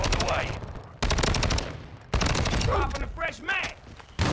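Rapid bursts of automatic fire from the STB 556 rifle in Modern Warfare 2, three long loud volleys separated by short gaps, with faint game sounds between them.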